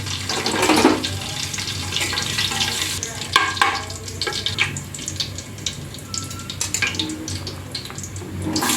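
Whole spices including star anise, cinnamon, cloves, cardamom and cumin frying in hot oil for chicken dum biryani, a steady close crackling sizzle with occasional stirring clinks and scrapes running throughout.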